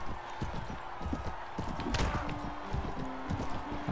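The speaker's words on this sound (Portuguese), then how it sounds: "Atropelei ele com meu cavalo." Horse hooves clop in rapid, continuous rhythm in Mount&Blade: Warband with the Medieval Conquest mod, a galloping mount close by, joined by clashing combat noise.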